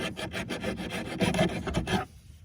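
A hand file rasps back and forth across a plastic part during a cheap front plate installation on a 2012 Tesla Model S, making a series of close, scratchy strokes that stop abruptly.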